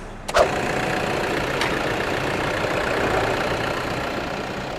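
A 2012 Toyota Vigo Champ pickup's 2.5-litre diesel engine idles steadily with a low, even rumble after a brief sharp start-up burst, continuing alone without talk.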